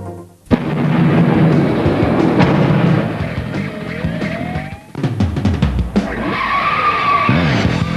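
Cars skid and screech with tires squealing in the PlayStation vehicle-combat racing game Twisted Metal, loud and continuous over engine roar and crashing booms, with a sharp impact near the start and another burst near the end.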